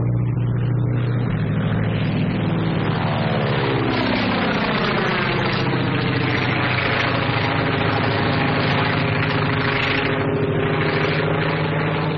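A small 1939-era propeller plane with a smoke attachment drones overhead, its engine a loud, continuous roar with a pitch that slowly sweeps and shifts as it passes.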